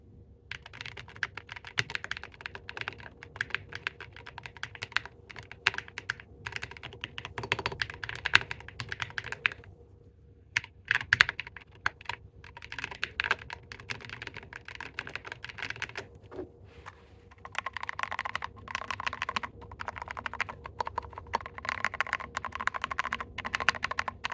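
Steady typing on a mechanical keyboard with Drop + Invyr Holy Panda tactile switches, close and clear, with rapid uneven keystrokes and brief pauses, each press giving a soft bumpy clack.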